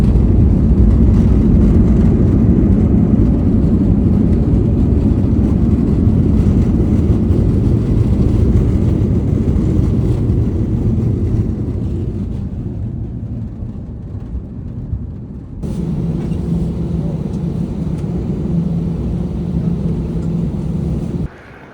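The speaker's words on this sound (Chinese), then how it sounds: "飞机即将着陆。" An airplane landing, heard as a loud, steady low roar of engines and rushing air that eases down and then shifts abruptly near the end.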